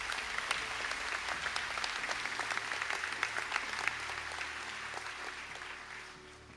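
A final round of applause at a university conferring ceremony for academic excellence awards, a hall full of steady, brisk clapping that holds for several seconds and then gradually fades toward the end.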